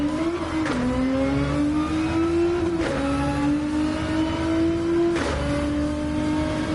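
A race car in Gran Turismo 7 revs hard through the gears, its engine note climbing steadily and then dropping back at each of three upshifts, loud and continuous from the cockpit view, with no voices.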